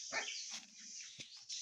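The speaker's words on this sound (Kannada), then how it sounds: "ಅದೇ ಥರ ನಾಯಿ ಮರಿಯೂ ಕೂಡ ಐತೆ ಒಂದು" A puppy near a village temple in Mandya yips a few times: short, faint, high barks set apart by pauses, heard from some distance without talk.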